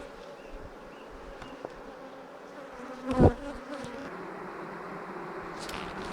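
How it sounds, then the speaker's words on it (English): Bees hum in a steady, dense drone, with one loud buzz passing close by midway through. "As you see, this is completely full up with bees."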